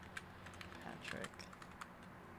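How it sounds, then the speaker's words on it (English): Quick keystrokes tapped on a computer keyboard, a fast, irregular burst of light clicks at close range, picking up through the middle of the stretch, with faint background murmur. "Let me type it in."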